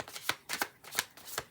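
Tarot cards being shuffled, with four quick riffling bursts spaced at a steady rhythm, close and fairly crisp, no talking.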